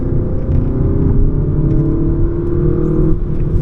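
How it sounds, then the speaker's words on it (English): An Audi A1 40 TFSI accelerates hard in second gear out of a circle, its engine droning loud and steady close up, with no talking. "then we are gonna accelerate out of the circle"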